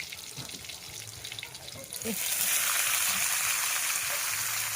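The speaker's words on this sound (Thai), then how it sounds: "พี่น้องสิพัดกระหล่ำค่ะ" Shredded cabbage hits a hot pan to be stir-fried with fish sauce, and a broad sizzling hiss swells midway and holds steady at close range.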